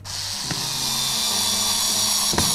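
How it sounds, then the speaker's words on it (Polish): A power screwdriver drives a screw into the wooden side of a small hand-built loom, a steady close whirring motor that runs continuously for a few seconds with brief clicks at start and end. "I mocujemy ten wkręt tutaj z boku"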